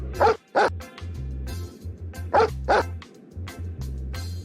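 Dogs bark in repeated sharp bursts, some yips among them, loud and fairly close, with gaps of quieter background between barks.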